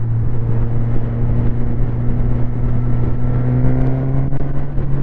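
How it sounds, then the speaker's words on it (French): A Suzuki Katana motorcycle fitted with an Akrapovic exhaust runs with a steady, loud engine drone that climbs a little near the end, heard up close with no talking. "Je sais pas si on entend bien, là je suis monté, alors je sais pas si c'est la ligne complète ou si c'est juste le silencieux, mais c'est du Akrapovic"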